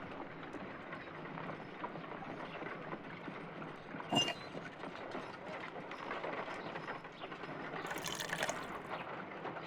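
Water being poured into an ice knife mold in a Sherlock Holmes detective game, a steady, fairly quiet filling trickle with faint splashes over a low ambient bed, no talking.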